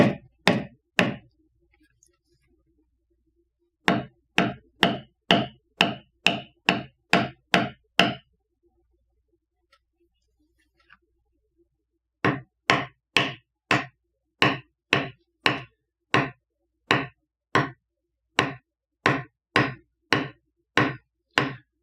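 Sharp hammer blows striking leather in quick, steady bursts of about eight to ten strikes, separated by short pauses, close and loud.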